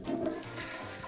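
A toilet flushes in the Cook Serve Delicious game, a short, soft gurgling rush of water lasting about a second with no talk over it.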